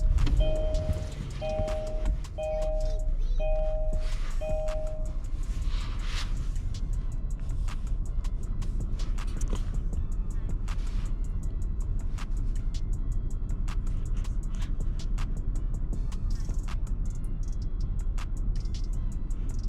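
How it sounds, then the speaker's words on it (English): A Kia Telluride fitted with a throttle controller: a few electronic chime tones sound at first, then a low, steady engine idle hums quietly for the rest of the stretch. "Start the car."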